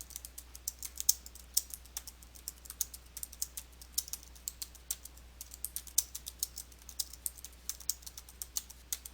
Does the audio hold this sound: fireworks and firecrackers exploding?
no